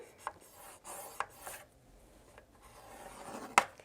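A scoring tool is drawn across cardstock in quiet, close strokes of rubbing and scraping, with a few sharp clicks and taps between them, no speech.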